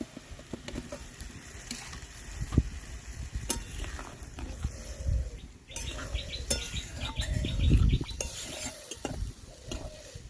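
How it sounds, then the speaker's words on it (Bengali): Broth bubbling in a pot as ingredients for a Bengali steamed lentil and egg dal dish are dropped in, a soft sizzle and patter with stirring clinks and plops, birds chirping faintly in the background. "তো ঝোলটা ফুটতে শুরু করেছে এরপর কিন্তু এগুলোকে আমি দিয়ে দিলাম ঝোলের মধ্যে"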